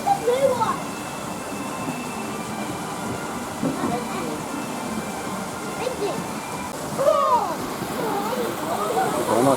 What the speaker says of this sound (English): Got a nice waterfall over there.